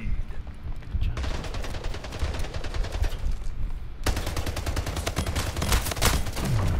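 Rapid automatic gunfire in the arena shooter Splitgate during a Team Deathmatch, dense bursts of shots with a short pause near the middle, loud and close, with brief talk over it.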